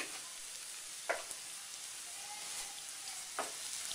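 Mutton liver fries in a pan under a quiet, even sizzle while spices are stirred in, with two soft scrapes of a spoon against the pan.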